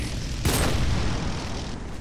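An ion cannon explosion in the video game Renegade X, heard as a short, broad booming burst that rises sharply and then fades under continuous rumbling background noise.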